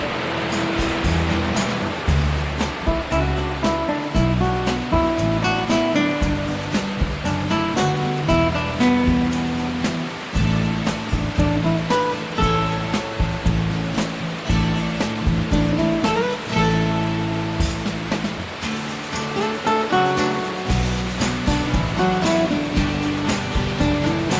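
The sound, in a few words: waterfall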